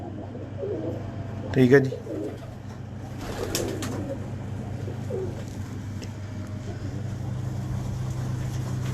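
Pigeons coo softly in a loft while someone briefly speaks, followed by a steady low hum and faint background bird calls that continue throughout.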